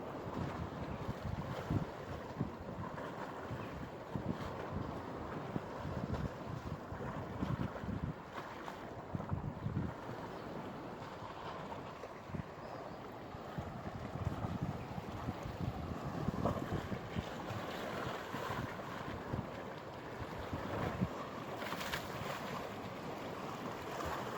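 A rough sea churns near Şarköy in the early morning, with steady broadband wave wash and gusting wind noise filling the whole stretch without voices.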